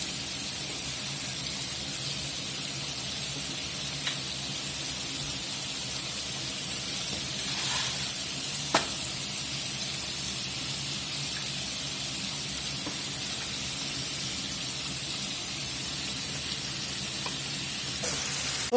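Buttermilk chicken thighs coated in Cajun and Creole seasoning deep fry in hot oil, giving a loud, steady hiss of bubbling that stays constant throughout, with a single sharp click partway through.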